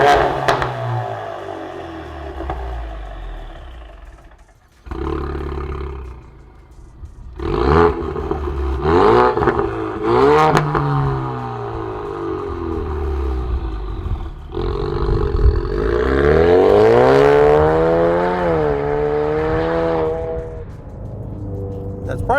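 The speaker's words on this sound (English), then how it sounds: "You have the nice crackle to it when you rev it up." A Ford Mustang EcoBoost with a Ford Performance by Borla Sport cat-back exhaust revs repeatedly, with loud rising and falling engine sweeps, crackle on the throttle and a steady idle between pulls.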